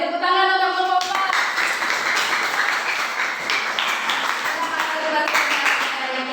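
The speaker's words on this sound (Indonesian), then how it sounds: "Beri tepuk tangan untuk kelompok 4" Students in a classroom clap for a group after a presentation, a dense run of many hands striking that starts abruptly after a moment of voices and carries on evenly to the end.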